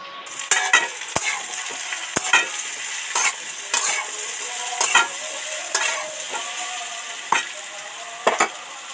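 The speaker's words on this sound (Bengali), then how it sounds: "ওল আর আলু তো ভাজা ভাজা হয়েই গেছে।" Chunks of elephant foot yam and potato fry in a pan, with a continuous sizzle broken by sharp, regular clinks and scrapes of a spatula stirring every second or so.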